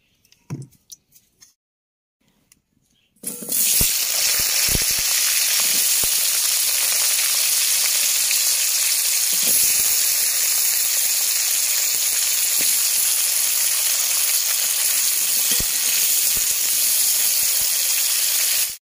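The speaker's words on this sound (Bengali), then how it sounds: "কড়াই আবার তেল দিয়ে দিচ্ছি, সর্ষের তেল দিয়ে ওই যে স্টমাকের জন্য আলুটা ভেজে নেব" Potatoes fry in mustard oil in a kadai, a few quiet clinks giving way to a sudden loud, steady sizzle that holds unbroken to the end.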